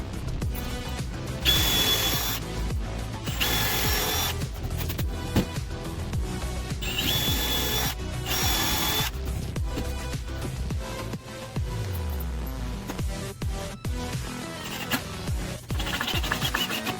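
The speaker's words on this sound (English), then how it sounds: "we need to widen the pilot hole, which is what the larger drill bit is for." A power drill with a larger bit widens a pilot hole in a wooden 2x4, several grinding bursts of a few seconds each with whirring between them, close and loud.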